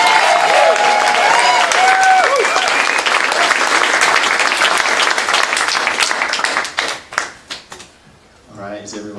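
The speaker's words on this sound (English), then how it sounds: "let's give John a big round of applause." A crowd at a startup pitch event applauds a presenter with loud, sustained clapping that thins into scattered claps before a voice begins speaking at the end.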